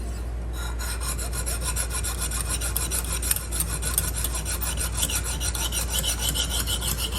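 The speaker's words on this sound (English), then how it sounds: "I'm having to establish an edge on a knife that's never had one." Steady rhythmic rasping of a knife blade stroked along a Lansky sharpening system hone, a factory edge being established on a never-sharpened knife; close, continuous back-and-forth scraping with no talk.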